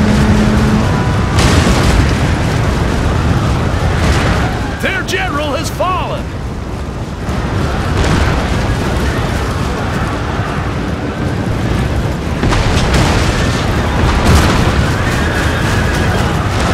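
Artillery bombardment in the Shogun Total War game Fall of the Samurai: dense, continuous booming explosions and battlefield rumble fill the whole stretch, loud and sustained, with a voice briefly heard amid the din.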